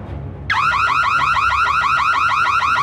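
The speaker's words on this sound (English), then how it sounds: "Oh no, the alarm!" A wailing alarm suddenly starts in a Minecraft game, a loud, rapidly warbling siren that rises and falls in quick repeated sweeps and continues without pause.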